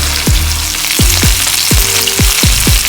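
Boneless chicken thighs browning in a pot, a steady loud sizzle of frying running throughout, broken by about six sharp low thumps spaced roughly half a second apart.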